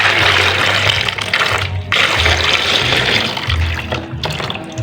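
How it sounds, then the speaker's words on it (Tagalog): Water pours steadily into a container of balut eggs to soak them, a continuous splashing fill with a brief break partway through and no talking over it. "lagyan po natin siya ng tubig"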